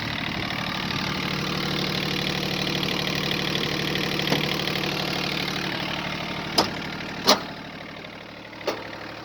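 A used Yanmar F-7 mini tractor's small engine idles steadily at close range, a low continuous chug, with a few sharp clicks near the end.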